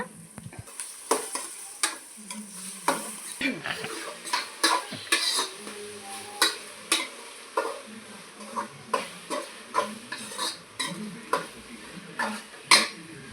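Tomatoes and onion with spices are sautéed in a pan, with a low sizzle under regular scraping stirs of a spoon against the pan. The strokes repeat in a steady rhythm and are heard close up.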